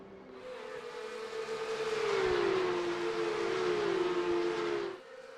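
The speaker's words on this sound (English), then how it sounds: "Siren goes." At Le Mans in the iRacing sim, the race start siren wails with a single wavering tone that rises, dips and swells for several seconds before cutting off abruptly, fairly faint against a quiet background.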